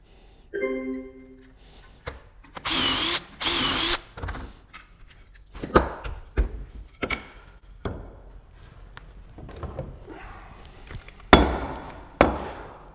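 A power drill bores holes in a wooden nightstand web frame, with short whirring bursts separated by pauses, interspersed with sharp knocks and clinks of parts being handled nearby.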